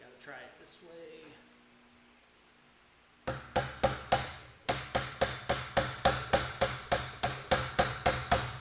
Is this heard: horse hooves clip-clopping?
no